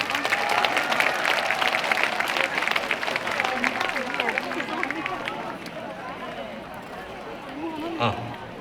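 Loud applause from an audience at a citizens' rally against a lead smelting plant in Yeongju fills most of the clip, with a busy crowd texture that thins slightly toward the end, followed by a short bump of noise.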